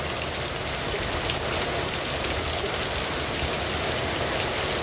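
Heavy rain pours steadily in Santana do Ipanema, a dense, loud, unbroken hiss of drops hitting surfaces with no voices.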